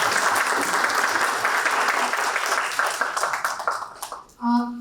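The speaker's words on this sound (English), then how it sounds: "Can you give a round of applause for all the speakers?" An audience at a talk on micro and nano enterprises applauds the speakers, dense clapping that swells then tapers off over a few seconds, followed by a brief tone.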